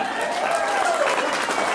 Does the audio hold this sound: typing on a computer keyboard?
no